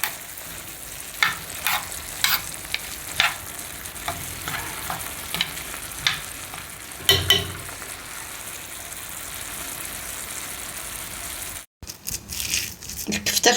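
Turmeric, ginger, pepper and salt fry and are stirred in a pan, with soft sizzling and a series of scraping stirs throughout, ending in a brief pause before the frying resumes.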